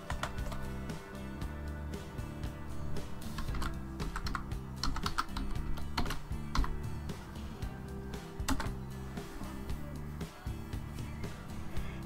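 Someone types on a computer keyboard, a close, steady run of light key clicks over a faint background hum, with no voices.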